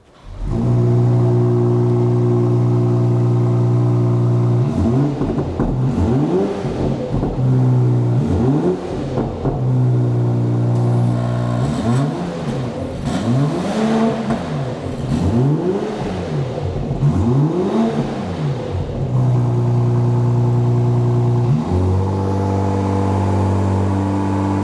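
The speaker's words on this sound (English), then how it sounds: "We are now ready for a cold start." A BMW G05 X5 50e LCI with a DCE axleback exhaust makes a cold start: the engine fires up loudly and settles into a high idle, then a series of rising and falling revs in the middle, and finally drops back to idle.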